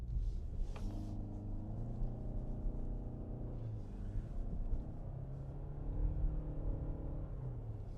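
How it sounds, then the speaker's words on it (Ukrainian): A low, steady engine hum drones from inside a moving Toyota Camry 80 Hybrid, faint and rumbling, rising slightly in pitch at moments. "звук двигуна приємно звучить"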